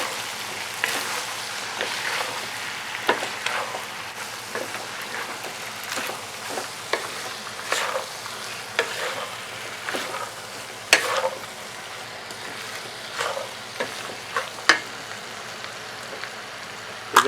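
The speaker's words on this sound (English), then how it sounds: "so I'm going to add the Bora inside now. Give it a stir." Bora beans and chicken frying in a pan, a steady soft sizzle with frequent scraping stirs and occasional clinks of a utensil, close up and with no talking.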